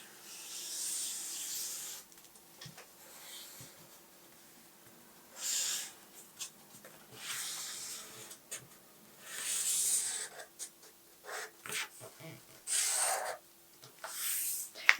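A pencil traces around a sleeve pattern on paper, giving soft intermittent scratchy rubbing strokes in several bursts with quiet gaps between them, close and fairly faint, with no talking.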